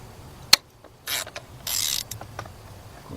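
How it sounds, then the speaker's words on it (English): A 3/8-drive ratchet with a 10 mm deep socket works loose the coil bolts on a 2007 Nissan Altima engine, giving a sharp metallic click and then short bursts of ratcheting, close and fairly quiet, with no talking. "And Billy Bob got a 10 millimeter deep, 3/8 drive"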